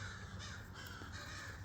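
Crows caw loudly and close by, a short burst of harsh calls with a hawk nearby, and no one speaks.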